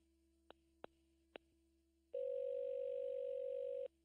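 Three short clicks, then a steady, loud telephone dial tone hums for about two seconds and cuts off abruptly.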